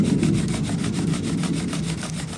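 A small flat piece of sandstone grinds a flat spot onto the wood of a fire plow, a close, steady rasping rub in quick repeated back-and-forth strokes.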